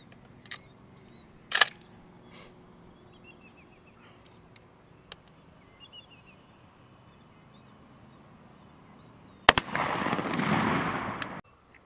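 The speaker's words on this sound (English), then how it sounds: "The fourth shell that Matt's going to shoot is the Federal." A shotgun firing a Federal 1 1/8 ounce load of number 2 shot while patterning for waterfowl: a single sharp, loud report near the end with a hissing tail, preceded by a faint pop and long quiet.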